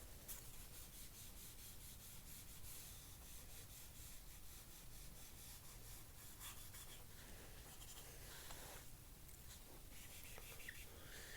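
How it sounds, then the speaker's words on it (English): Steady, continuous rubbing of an eraser across a writing board, close and fairly quiet, with rhythmic back-and-forth scrubbing strokes running the whole time and no voices. "Gonna erase this."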